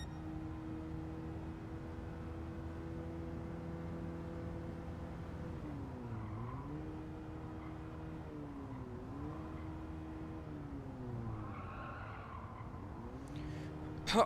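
Engine of a new Nissan car driven in Gran Turismo 7 on PS5, holding a steady hum before pitch dips and swings through corners, with faint tire squeal near the end, heard at moderate distance and fairly quiet.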